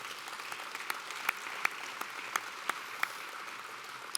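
Audience applause at a Boy Scouts Good Scout Award luncheon, a steady patter of many hands with a few sharper nearby claps standing out, sustained throughout without talk.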